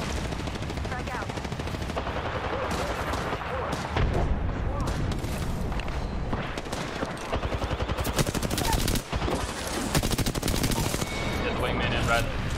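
Rapid automatic gunfire and bursts from an Apex Legends match, dense and loud throughout, with repeated sharp shot transients, booming impacts and game effects layered over continuous action.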